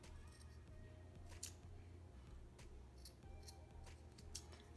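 Small scissors trimming the loose string ends of a handmade friendship bracelet, a few quiet, crisp snips spaced irregularly against a soft background hum.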